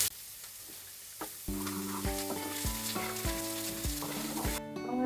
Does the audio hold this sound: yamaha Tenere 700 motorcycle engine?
no